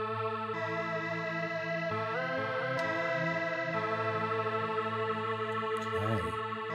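Monophonic synth patch on the KORG Electribe Wave iPad app, a sustained buzzy lead with chorus and distortion that glides smoothly between pitches, continuous and steady, with a quick downward swoop near the end.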